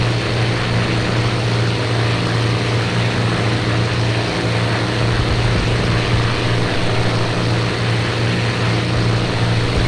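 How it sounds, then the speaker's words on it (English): A WWII Bf 109 fighter plane comes down for a crash landing, its propeller engine a loud, steady droning roar with a strong low hum held throughout, with no talk. "he sees the enemy plane try to put down for a crash landing, but Headshot wants revenge"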